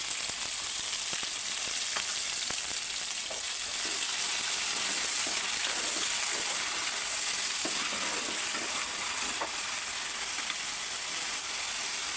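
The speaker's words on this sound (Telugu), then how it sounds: "నూనె అయితే వేడే ఉంది, ఆనియన్స్ వేసుకుందాం." Onions sizzling in hot oil in a pan, with a continuous bright crackle and hiss that stays even throughout, and faint stirring clicks scattered through the frying.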